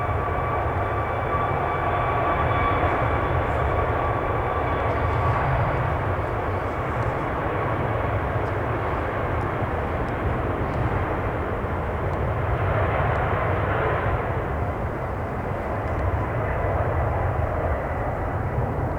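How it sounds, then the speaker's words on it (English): A one-year-old passenger jet departs Manchester Airport bound for Malta, its engines a loud, steady roar that holds for the whole stretch and swells slightly toward the end, with no talk. "Looks like this is going to be a quick departure as it goes off to Malta."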